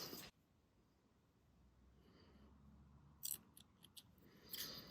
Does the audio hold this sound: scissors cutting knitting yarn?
yes